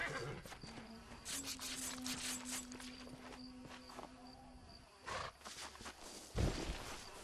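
Horses neigh and their hooves clop in the Western video game Red Dead Redemption, amid scattered footsteps and thuds, with a sustained whinny early on and a few louder impacts near the end.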